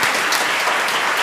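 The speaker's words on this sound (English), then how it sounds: "Give them a big round of applause" Parishioners at a confirmation Mass applaud the church lectors, a brief, dense patch of clapping.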